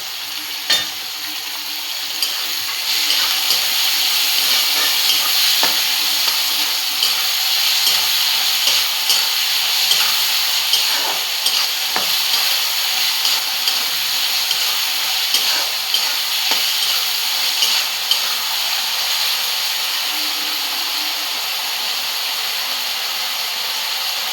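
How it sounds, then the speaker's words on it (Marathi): Tomato and onion sautéing in a pan for bhindi masala, a loud, steady sizzle and hiss that runs throughout, with occasional spoon scrapes and no voices. "आपला टोमॅटो पण आता चांगला परतला गेलेला आहे"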